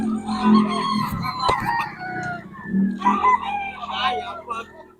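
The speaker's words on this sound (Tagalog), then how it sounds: "Mga stag. Kay Boss Nelson to mga idol." Young roosters, stags, crow and cluck nearby in a farmyard. Calls come in overlapping bursts, with voices talking underneath.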